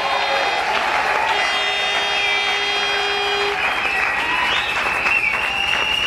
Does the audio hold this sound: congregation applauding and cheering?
yes